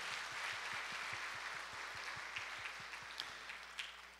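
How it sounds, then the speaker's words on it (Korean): A church congregation applauds during a Sunday morning service, a steady wash of many hands clapping at moderate level for about four seconds, with a low repeating thump underneath. "동산의 가족이 되신 분들에게 마음을 담아 박수로 우리 환영하겠습니다"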